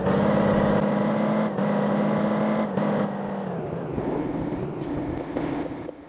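A truck engine in Truck Simulator Ultimate hums steadily as the vehicle pulls out of a fuel station, then the tone dips and shifts with brief gear-change gaps before easing off, loud and continuous with no voices.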